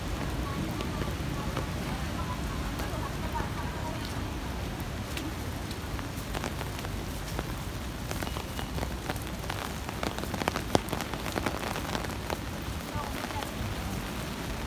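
Steady rain falling on a rainy Sunday, a dense continuous hiss with scattered drop ticks throughout, fairly close, with faint voices at times.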